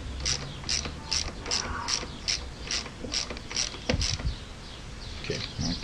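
A wrench clicks through the ratchet as it backs off the preload adjuster on a K-Tech 20DDS motorcycle fork cartridge, using a 14 mm fitting. A steady run of close, sharp ticks sounds in regular rhythm, with a few heavier clunks near the end.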